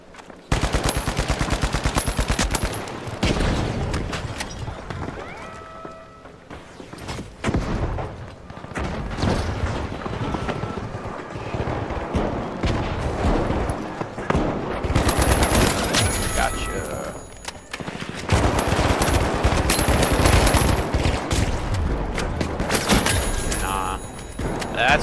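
FAMAS rifle fire in The Finals, loud rapid bursts mixed with other gunfire and heavy impacts, running almost continuously with a dense stretch in the last ten seconds.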